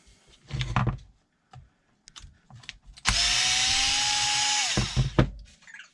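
A power drill runs in one steady burst of about a second and a half, whining down as it backs screws out of the back cover of a Traxxas XRT RC truck, with shorter clicks and handling noises before and after.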